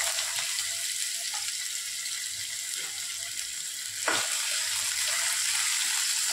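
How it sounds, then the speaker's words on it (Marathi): Sliced potato frying in oil in a pan for a capsicum masala dish, a steady close hiss and sizzle with a brief clatter partway through and no talking. "बटाटाही आपण फ्राय करून घेऊया।"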